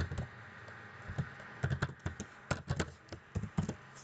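Fingers type on a computer keyboard in bursts of quick, close key taps with short pauses between words, clear and fairly quiet, with no talking.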